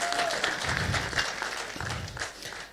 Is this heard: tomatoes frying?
no